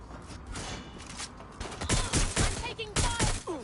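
A barrage of gunfire in the video game Watch Dogs: Legion, rapid cracking shots in bursts that grow louder partway through, with short mechanical clicks among them.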